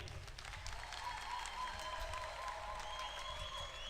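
A convention crowd applauds, a dense, steady wash of clapping heard from close by that holds evenly throughout, with faint voices mixed in.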